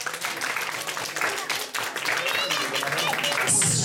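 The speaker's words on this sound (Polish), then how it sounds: "Wielkie, wielkie brawa!" Audience at a children's talent show breaking into loud, sustained clapping that carries dense and even from start to finish, with a few cheers mixed in.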